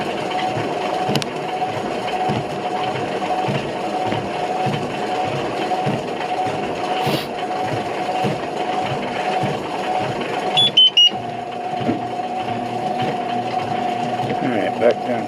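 A motorized treadmill whirs steadily at a walking pace while its incline adjusts, with a quick cluster of short, high electronic beeps partway through and a voice speaking over the hum.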